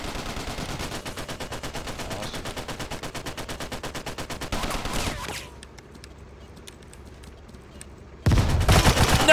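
Rapid automatic gunfire in the WWII online shooter game rattles in a long steady burst, pauses briefly, fires again, then gives way to quieter distant shots before another loud burst.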